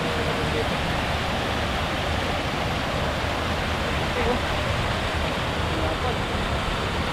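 A waterfall pours over rocks at a stream passage, giving a loud, steady broadband rush with no breaks.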